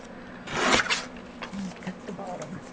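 A small paper cutter slices across the bottom of book pages in one quick rasping stroke, followed by fainter scrapes and rustles of paper close by.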